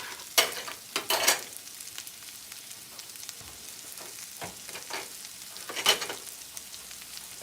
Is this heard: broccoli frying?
yes